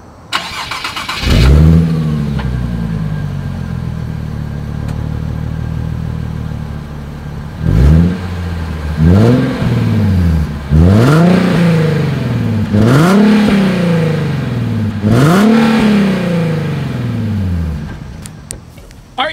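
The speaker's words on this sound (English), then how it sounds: "Here is the 2020 Nissan 370Z exhaust clip." A 2020 Nissan 370Z engine starts with a loud bark, settles into a rumbling idle, then revs hard several times in quick succession, the exhaust roaring close by.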